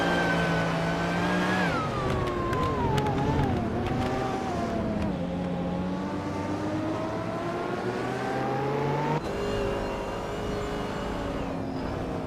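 A 1979 BMW M1 Pro car and rival racers, including a Camaro, drone through a racing video game, engines holding a steady, loud whine that rises and dips with gear shifts and throttle, continuous with no talk.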